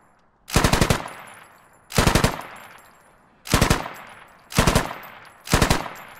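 Five short, loud bursts of automatic machine-gun fire in the video game Squad, evenly spaced about every second and a half, each a rapid rattle of rounds trailing off before the next.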